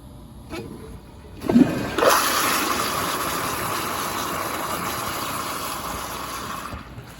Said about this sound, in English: let me give you all a flush